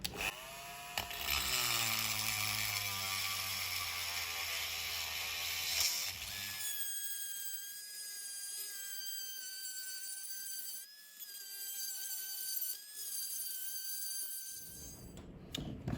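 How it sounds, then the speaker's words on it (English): A Dremel rotary tool grinding to widen a hole in a beer keg cover, a high whining buzz that runs steadily and close for many seconds, dropping into a thinner whine partway through before cutting off near the end. "I'm going to use a Dremel for that."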